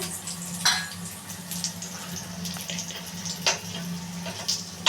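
Litti, round stuffed dough balls, frying in hot oil, a continuous crackling sizzle with sharper bursts of spitting oil and light stirring, close and steady without talk.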